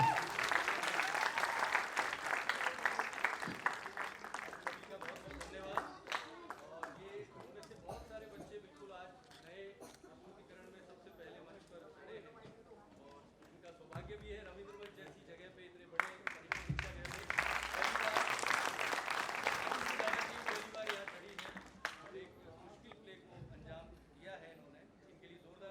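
Audience applause welcoming the announcer at a stage play performance, two loud bursts of clapping at the start and again later, with talk and lighter scattered claps in between.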